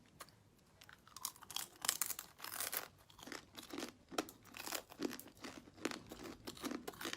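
Fried rainforest scorpions are bitten and chewed close up, making repeated crisp crunches and crackling chews in an uneven rhythm, quiet but distinct, with no talking.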